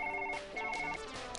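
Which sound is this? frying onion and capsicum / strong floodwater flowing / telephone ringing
telephone ringing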